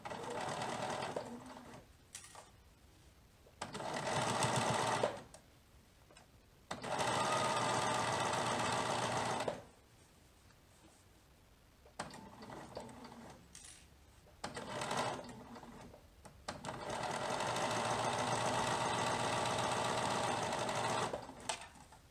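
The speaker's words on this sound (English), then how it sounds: "Now I'm not pulling my fabric through the machine, I'm just manipulating the top layer of fabric so that it goes through smoothly." A sewing machine stitches fabric for a baby dress in several bursts of steady, fast whirring, each run a few seconds long and separated by brief pauses.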